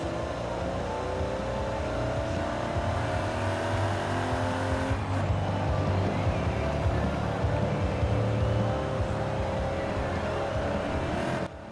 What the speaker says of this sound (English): Like usual, I shall let you go ahead and have a listen to this thing stock.